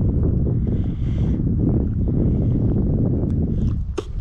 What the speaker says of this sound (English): now we got really light wind